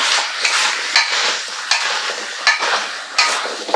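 Onions and red kuri squash cook in a pan, a close, steady sizzle broken by regular scraping stirs of a utensil every half second or so, with no talking.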